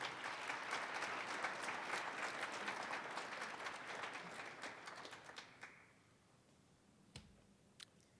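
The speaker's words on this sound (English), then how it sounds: "Let's give him a round of applause." Applause from an audience at a high school athletic hall of fame ceremony, a dense burst of clapping that fades out after about five seconds, leaving a quiet room with a couple of faint knocks.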